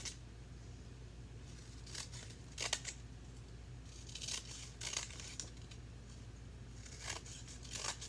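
Scissors snip long, skinny paper strips for quilling, several short crisp cuts spread across the stretch and clustered in bursts, fairly quiet over a steady low hum.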